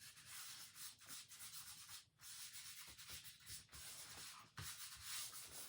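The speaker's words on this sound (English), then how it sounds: "lay it in here and burnish it" Paper being burnished by hand over an image-transfer surface: a quiet, rhythmic scratchy rubbing, repeated strokes with brief pauses, close up and with no voices.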